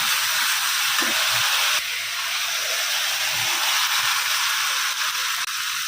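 Vegetables and paneer sizzle in oil and spices in a pan, a loud, dense, steady hiss that fills the whole stretch close up, with no talking.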